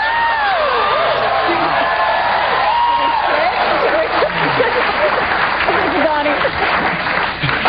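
A studio audience applauds loudly with whoops and cheering, the clapping sustained across the whole stretch while a voice cuts through at times.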